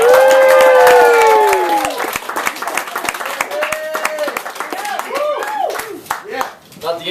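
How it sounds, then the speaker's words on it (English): An audience at a stand-up comedy show claps and cheers for a comedian coming on stage, dense close applause with whoops and whistles early on, tapering into scattered claps and crowd voices. "Everybody please give a warm round of applause to Mr. Jeremy Leveille"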